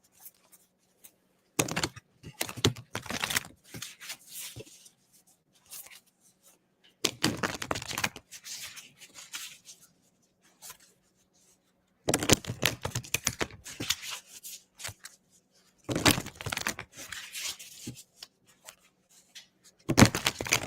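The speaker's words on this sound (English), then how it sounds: "I'm shuffling for you now." Tarot cards shuffled by hand during a live reading, in four or five rustling, riffling bursts separated by quiet pauses, close and fairly soft, with no voices.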